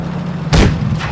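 A single loud, close tank cannon shot booms out in a tank battle video game, a sudden blast against a low engine hum that lingers briefly as it decays.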